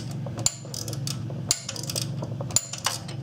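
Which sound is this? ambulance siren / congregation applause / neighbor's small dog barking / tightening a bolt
tightening a bolt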